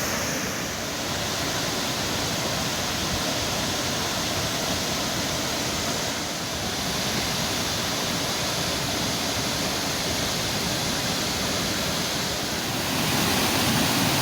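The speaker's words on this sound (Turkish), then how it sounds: "Canik Dere Şelalesi karşınızda." A steady, roaring rush of falling water fills the whole stretch, loud and continuous with no voices, like standing close to Canikdere Waterfall in Tonya, Trabzon.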